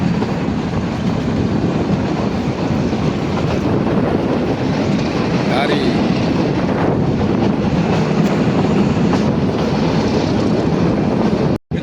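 A meter gauge train running between Dhari and Junagadh fills the scene with a loud, steady rumble and rattle of the carriage, rolling on without pause until a sudden cutoff.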